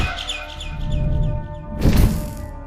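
Bird chirps in the video game Garten of Banban 6, a quick series of bright tweets over a low hum, ending in a loud thudding burst near the end.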